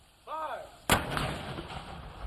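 A ceremonial cannon fired at the American Freedom Museum gives one sharp, loud blast followed by a rolling echo, preceded by a brief tonal whine.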